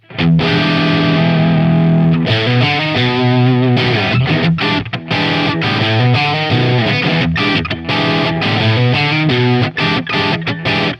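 An electric guitar driven through an ODD Box v1 hard-clipping overdrive pedal plays loud, saturated rock chords and riffs with sustained distorted tone and short choppy gaps between phrases, with no talking over it.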